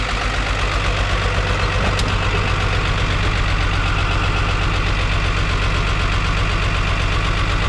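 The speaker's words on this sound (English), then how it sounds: "it's holding an idle right out of the gate" The diesel engine of a 1975 squarebody truck idles steadily and loudly up close, a continuous rough clatter with no pauses throughout.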